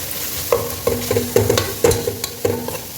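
Cumin, green chillies and onions browning in a pan for a mutton spleen pepper gravy are stirred in a regular rhythm. A spoon knocks and scrapes about every half second over a low, steady sizzle.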